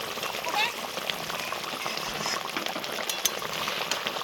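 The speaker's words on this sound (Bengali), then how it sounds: "ঢেকে ফুটিয়ে নেব।" Rohu fish simmering in mustard sauce with slit green chillies in a covered pan, a steady close bubbling hiss holding level throughout, with brief knocks and rattles over it.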